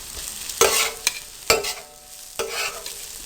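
Garlic is added to lightly browned onions, sizzling steadily in a pan, with several sharp stirring scrapes breaking in at intervals; no voices.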